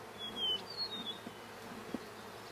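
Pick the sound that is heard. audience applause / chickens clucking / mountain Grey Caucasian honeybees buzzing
mountain Grey Caucasian honeybees buzzing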